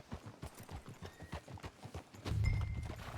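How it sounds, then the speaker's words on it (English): Steady, rhythmic clip-clop of horse hooves trotting on a street in Red Dead Redemption 2, close and clear, with a louder rumble of hoofbeats joining near the end. "Can you grab Anders off your horse and carry him in for me?"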